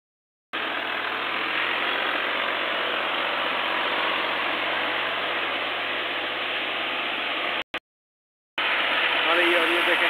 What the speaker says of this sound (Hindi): उसमें जो है ट्रैक्टर जो है और